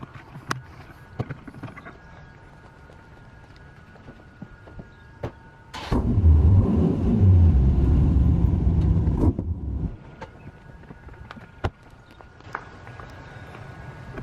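A Dodge Viper ACR Extreme starts and idles with a deep, rumbling V10 roar for about four seconds, loud and close, between quieter stretches of footsteps and small clicks.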